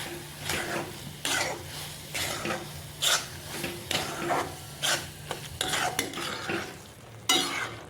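Raw banana pieces sautéing in hot oil for a banana sabzi, with a steady low sizzle and rhythmic, repeated scraping stir strokes of a spoon through the pan, close and fairly loud.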